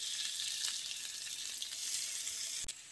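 Fish fries in oil in a pan over an outdoor wood-fired stove, giving a steady close hissing sizzle with a brief clatter near the end.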